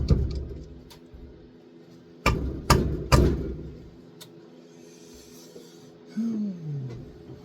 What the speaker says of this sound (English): 10 millimeter screwdriver and a big hammer